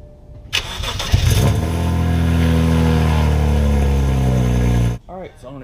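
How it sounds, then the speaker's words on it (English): A BMW 135i/335i engine cranks briefly and catches, then settles into a steady, loud idle up close before shutting off abruptly, with a few faint words spoken at the very end. "let's get up front of the car and start it up."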